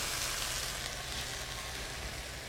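Leeks and carrots sweating in a pan for carrot and cumin soup give a steady, close sizzle with soft crackling, continuous and even throughout with no talking.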